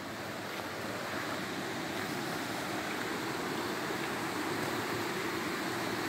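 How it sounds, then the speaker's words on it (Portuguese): A waterfall fills the space with a constant, dense roar of rushing water, steady and unbroken from start to finish, with no one speaking. "A água faz muito barulho nas cachoeiras."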